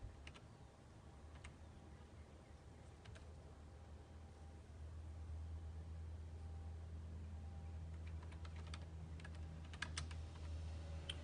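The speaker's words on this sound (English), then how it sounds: "So I'm going to type in here NCLEX" Quiet, close typing on a computer keyboard, with scattered light key clicks that cluster into quicker bursts toward the end over a faint steady hum, no talk.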